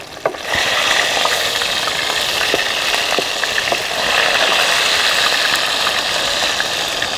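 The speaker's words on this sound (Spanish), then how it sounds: "sigue, vamos a freír" Trout chicharrón frying in a pan outdoors, a loud, steady, dense sizzle and crackle of hot oil that runs unbroken throughout with faint scattered pops.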